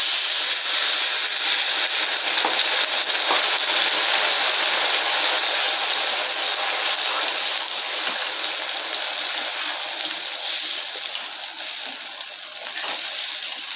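Sugar syrup for boondi laddu boiling in a pan, a steady, loud bubbling hiss that carries on without a break, with no talking.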